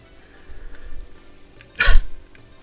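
A single sharp sneeze bursts out near the end after a stretch of quiet room noise, close and loud.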